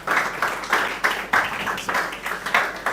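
An audience applauds and claps steadily at a morning talk, a dense crowd of hands with a regular pulsing rhythm, fairly close and loud, with no voices over it.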